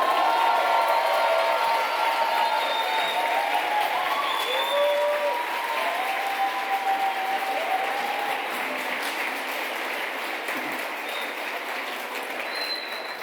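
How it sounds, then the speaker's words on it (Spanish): An audience applauds a distinguished guest speaker, astronomer Dr. Julieta Fierro, at a university lecture on Mesoamerican astronomy; steady, dense clapping fills the hall throughout and fades slightly toward the end. "Un aplauso fuerte para ella, por favor."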